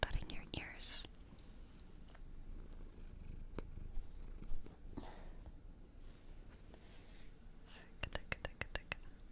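A cat purrs softly and close under gentle whispering, with scattered light taps and rustles, and a quick run of sharp clicks near the end.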